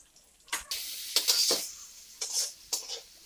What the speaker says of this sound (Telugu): నెక్స్ట్ ఫ్రై వచ్చేసి హై ఫ్లేమ్లో పెట్టుకొని ఫ్రై చేసుకోవాలి